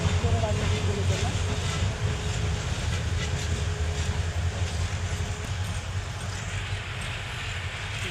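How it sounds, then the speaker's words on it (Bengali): A long train rumbles past close by, a steady loud roar with rolling wheel noise lasting throughout, while someone talks under it. "ট্রেন যাচ্ছে, আপনারা দেখেন, ট্রেনের কারণে হয়তো কথাগুলো বোঝা যাবে না"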